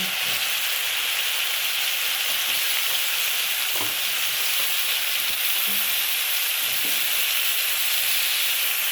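Chayote being stirred in a pot of tinolang manok (Filipino chicken soup), with a steady close sizzle and scattered soft scraping thumps from the utensil.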